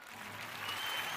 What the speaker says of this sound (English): Round of applause for y'all.